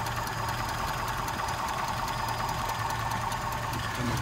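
A Daimler 2.5 V8 idles steadily with a deep, even burble and mechanical rattle while its carburettor mixture is adjusted, the engine note holding close and loud throughout.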